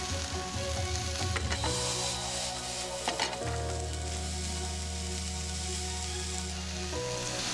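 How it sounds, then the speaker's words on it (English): Spring onions and cabbage being tossed in a hot pan for a vegetable stir fry, producing a continuous bright sizzle with scraping stir noises over a sustained low tonal hum. "Add the spring onions and cabbage to the pan and toss through."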